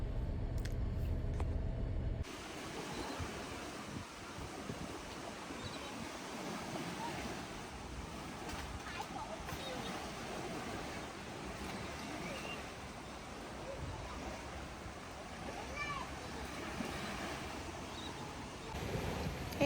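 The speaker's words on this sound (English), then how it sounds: "Hey guys, I'm at the beach today." Surf and steady wind at a beach, continuous broadband wash with gusty microphone wind noise throughout, fairly loud and close, with a brief low rumble at the very start.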